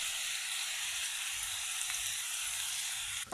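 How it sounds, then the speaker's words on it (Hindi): Onions fry in a pan for a chicken tikka masala, a continuous, even hiss of sizzling oil filling the whole stretch at close range, with no voices over it. "प्याज हमारा फ्राई हो रहा है।"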